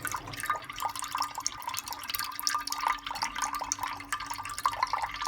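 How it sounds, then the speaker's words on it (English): Dirty water drains from the pump of a Bosch washing machine, a continuous close trickle with scattered drips and splashes that keeps a steady, uneven patter throughout. "there's some quite dirty water coming out there"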